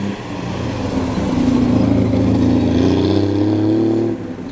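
A classic Triumph TR sports car, a TR6, runs at a British classic car show, its engine holding a steady mid-pitched drone that swells slightly as it revs, close and continuous with no talk.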